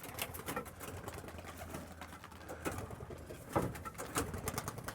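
Homing pigeons at a backyard loft coo steadily, soft and fairly close, with a faint rustle and flutter of wings as birds leave through the opened trap.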